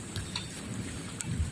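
Rain falls during rainy-season weather near a factory, a steady soft patter of drops with a few sharper splashes, quiet and brief.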